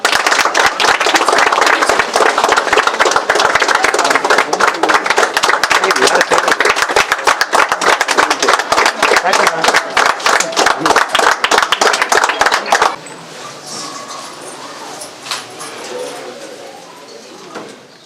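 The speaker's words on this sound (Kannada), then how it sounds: "ತಾವು ದಯಮಾಡಿ ಚಪ್ಪಾಳೆ ತಟ್ಟಿ ಸಂತೋಷದಿಂದ ಅವ್ರಿಗೆ ಆಶೀರ್ವಾದ ಮಾಡಬೇಕು" An audience claps and applauds at a school renovation event in Chikkaballapur, a loud, dense burst of many hands for about thirteen seconds that stops abruptly, followed by quieter ambient noise.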